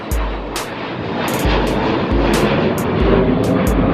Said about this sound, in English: Oh, we got a jet.